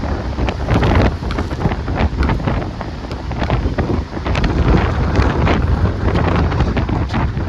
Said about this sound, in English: Waiting for the wind to die down. It's not gonna happen.